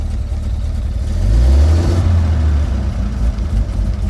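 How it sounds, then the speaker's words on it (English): The engine of a 1929 Buick idles, then revs up loudly as the throttle opens, peaks, and settles back to a steady run, with no talking over it. "Okay, the car is running. Let's step on the gas."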